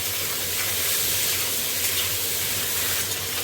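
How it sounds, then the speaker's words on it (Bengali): Prawns dropped into hot mustard oil, a steady, loud, bright sizzle and hiss that fills the whole moment without letup and with no talking. "তেলটা গরম হয়ে গেছে, চিংড়ি মাছগুলো এবার দিয়ে দিলাম।"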